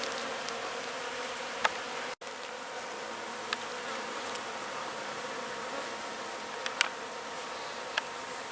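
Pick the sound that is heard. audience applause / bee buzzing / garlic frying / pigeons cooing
bee buzzing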